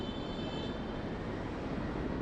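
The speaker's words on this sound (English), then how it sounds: "Chinook helicopter military training drills in Miami over buildings at night" A Chinook military helicopter passes over buildings at night, heard as a faint, steady, broad engine and rotor roar that holds evenly throughout with no distinct chop and no talking.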